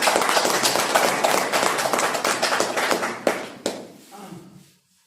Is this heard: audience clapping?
yes